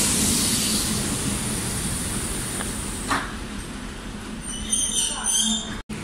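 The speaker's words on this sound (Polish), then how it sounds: "Wjeżdża pociąg SKM relacji Gdańsk Śródmieście Gdynia Chylonia." SKM commuter train, an EN57 unit on the Gdańsk Śródmieście–Gdynia Chylonia route, pulling into Gdynia station: a loud rolling rumble with high wheel squeal and brake hiss as it slows, ending with a brief abrupt cutout.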